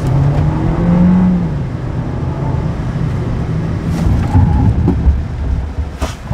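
A Volkswagen Jetta brakes hard on a skid pad, with loud road and engine rumble, a brief tonal whine early on and tire scrubbing noises building toward the end.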